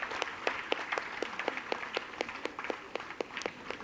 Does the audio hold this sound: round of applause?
yes